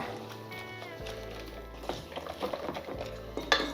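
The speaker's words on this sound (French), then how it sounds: "On ne s'arrête pas, on mélange." A spoon or whisk scrapes and clinks steadily around a bowl while mixing a lemon cream mixture with water for a microwave recipe, the stirring loud and close with irregular taps against the bowl.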